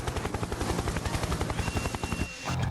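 A helicopter's rotor thumps in a steady, rapid rhythm, loud and close, with engine whine underneath and no talking.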